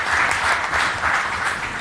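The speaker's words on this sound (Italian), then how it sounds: "un forte applauso" A warm round of applause from an audience at a commemorative event, steady and dense throughout with no break.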